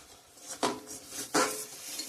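Cumin powder and chili paste are stir-fried in a pan with a faint sizzle underneath, marked by two distinct metallic clanks of a spatula against the pan about a second apart; no voices.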